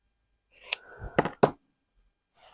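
Small scissors snip off loose embroidery thread ends on a slow-stitched tiny fabric house, giving a few close, crisp metallic cuts in quick succession and then another snip after a short pause.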